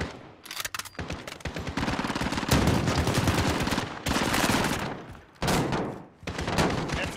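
Sustained automatic gunfire from the video game Call of Duty Modern Warfare, dense rapid bursts rattling almost continuously with brief gaps, loud and close.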